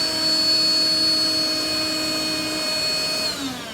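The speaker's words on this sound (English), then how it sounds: "The machine, this Bissell Pet Stain Eraser" A Bissell Pet Stain Eraser cleaning machine runs alone with a steady, loud motor whine and high tonal hum that holds evenly, then drops in pitch near the end as it winds down.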